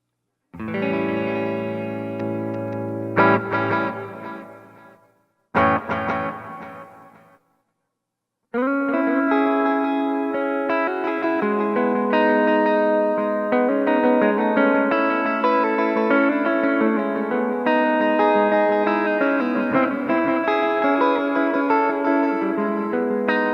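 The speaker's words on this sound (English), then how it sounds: "I'm gonna start with just delay and reverb and see what that sounds like" An electric guitar plays chords and sustained notes through an Orange Rocker 32 amp, each tone trailing off in repeating delay echoes and a wash of reverb.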